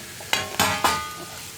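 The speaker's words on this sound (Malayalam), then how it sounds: "നന്നായിട്ട് ഇളക്കി മിക്സ് ചെയ്യുക." Spoon scraping and stirring egg masala in a pan after the flame is turned off, three distinct close scrapes spaced about a quarter second apart over a faint background sizzle.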